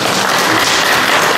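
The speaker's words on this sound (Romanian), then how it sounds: "Haideți să aplaudăm!" Audience applause at a Christmas carol concert with children's choirs, a dense steady wash of clapping that fills the short stretch at full level with no voices over it.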